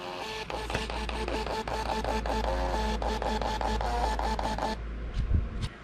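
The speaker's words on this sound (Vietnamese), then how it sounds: "In hóa đơn nè." An MTP3 Bluetooth thermal printer runs off a sales receipt with a steady, buzzing mechanical whir and rapid rhythmic ticking that holds for nearly five seconds, close and fairly loud, then stops with a brief clatter.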